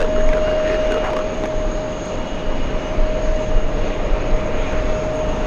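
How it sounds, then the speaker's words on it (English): A Lufthansa Airbus A340-300 jet arriving from Frankfurt makes a loud, steady roar with a sustained whine, heard continuously at a busy airport. "The A340-300 flying in from Frankfurt."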